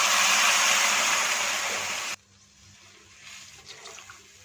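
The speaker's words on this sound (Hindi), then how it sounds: "इसके साथ ही इसमें 1 लीटर फुल क्रीम मिल्क शामिल कर देंगे।" A litre of full cream milk pours into vermicelli frying in a pan, a loud close rush of liquid for about two seconds that drops abruptly to a soft bubbling.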